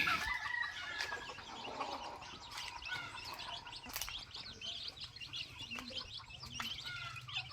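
Wild junglefowl kept in a cage crow and cluck close by, with chirping birds and a steady outdoor din around them and no talk.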